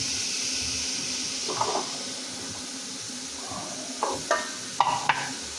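Carrots and chicken fry in a pan for restaurant-style chicken fried rice, a low continuous sizzle with a few sharp scrapes and clinks of a utensil against the pan near the end.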